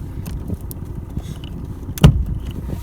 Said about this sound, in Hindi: ये हो गया भाई गाड़ी का इंजन ओपन।